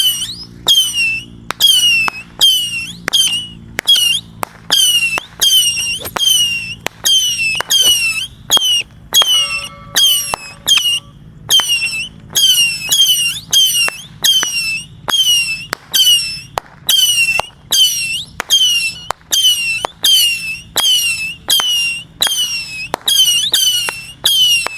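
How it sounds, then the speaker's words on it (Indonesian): A 50-shot missile firework goes off in a rapid, steady string of loud whistling shrieks, each launch a sharp squeal with a crackling pop, repeating over and over at close range. "selanjutnya yang akan kita nyalakan di sini ada misil 50 shot ya"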